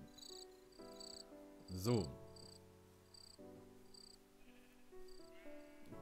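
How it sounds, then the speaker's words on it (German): Crickets chirp in the Minecraft woods, a steady high rhythmic trill of repeated pulses running through the whole scene, with a brief louder burst of game noise near the start and a short spoken word. "Bis auf die Grillen. Die könnte man abstellen."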